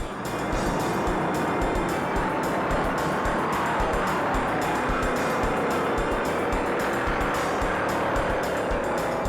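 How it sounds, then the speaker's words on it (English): Stock cars race flat out at 180 mph on the backstretch at the 1964 Daytona 500, a dense, continuous roar of engines holding loud and steady throughout with no talk. "The field stretches out as the leaders hit a speed of 180 miles per hour on the backstretch."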